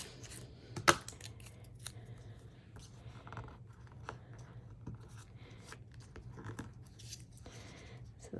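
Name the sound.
trimming paper for a photo craft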